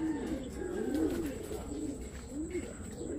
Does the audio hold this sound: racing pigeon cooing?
yes